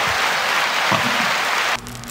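Replayed applause sound effect on a podcast, a dense wash of clapping that cuts off abruptly near the end, with a faint voice underneath.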